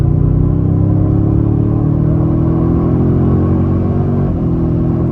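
A 2024 Toyota Sequoia TRD-Pro SUV pulls hard under throttle, its engine a loud steady low drone rising in pitch inside the cabin before a quick shift drops the tone.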